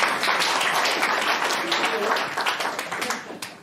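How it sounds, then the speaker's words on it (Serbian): Audience applause at a Rotary gathering with business owners and media present, a dense steady wash of many hands clapping that thins out toward the end, with faint voices mixed in. "ajmo molim aplauz za njih"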